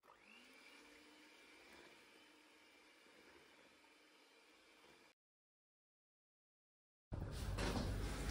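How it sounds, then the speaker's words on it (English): An electric hand mixer whirs through keto burger bun batter in a kitchen, a steady faint hum that cuts out for a couple of seconds of silence, then returns much louder and closer. "And I'm going to mix this with my hand mixer."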